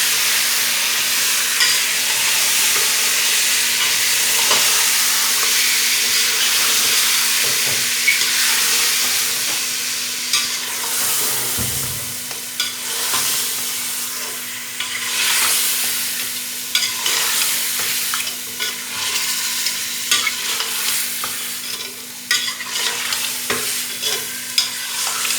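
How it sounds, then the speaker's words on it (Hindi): Mutton for a karahi fries in the pan under a loud, continuous sizzle and hiss, with repeated stirring scrapes and occasional clinks of the spoon, close up and sustained with no talking. "फ्राई करेंगे इसका"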